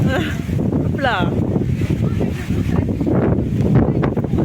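Wind blows outdoors on a sunny day, buffeting the microphone as a low, rushing rumble beneath close, continuous talking.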